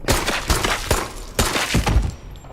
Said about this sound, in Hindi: आखिर इसने गोलियां चलवाई थी यार मेरे से।